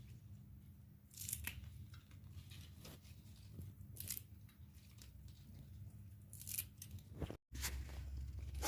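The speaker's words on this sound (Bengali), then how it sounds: "এই শিকড়গুলোকে একটু কেটে কেটে দিচ্ছি।" Spinach roots being cut off in a home kitchen. Three soft, crisp snips sound a few seconds apart, close but faint over a low background hum, with no talk.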